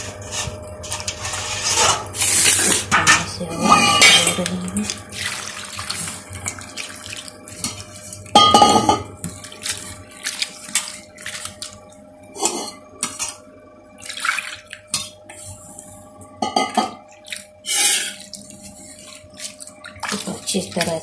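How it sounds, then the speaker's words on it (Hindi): Salted bitter gourd (karela) being rinsed and squeezed by hand in water in a kitchen, with intermittent splashing, sloshing and vessel clatter in short bursts, someone speaking between them. "इसके बाद ऐसे करके मैं धोऊँगी बढ़िया से, ताकि नमक निकल जाए सारा।"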